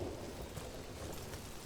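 Steady rain hisses in the video game Dragon Age: The Veilguard, a dense, even wash of falling water that carries on without a break.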